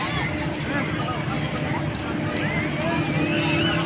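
A speedboat ride on the water at Dream Holiday Park gives a steady, loud engine drone mixed with wind and water rush, with faint voices from passengers in the background.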